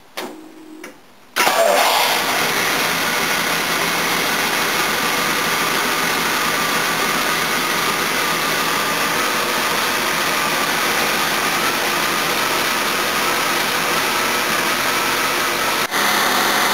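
A big V12 engine running without air filters cranks and catches, then settles into a loud, steady idle that runs on without pause.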